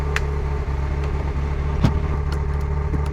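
A Ferrari F355 with 80,000 miles sets off, its engine holding a steady mid-pitched hum close by, with a few brief clicks and knocks over the running motor.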